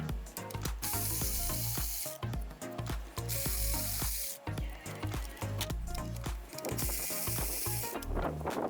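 A ratchet working on coil pack bolts of a Kia Soul engine during a tune-up, with rapid clicking pawl strokes in repeated bursts, close and loud, alongside metallic clatter.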